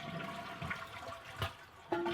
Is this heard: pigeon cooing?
no